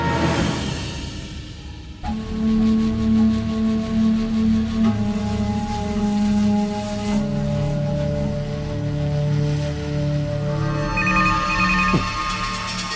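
A telephone rings in a Tamil TV serial scene, a loud, sustained electronic ringtone with steady tones that carries on for several seconds with no voices over it.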